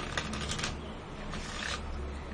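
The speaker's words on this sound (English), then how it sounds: "You shuffle it one more time." A deck of playing cards is shuffled during a card magic trick, a crisp papery riffling rattle that runs steadily through the moment with no voices.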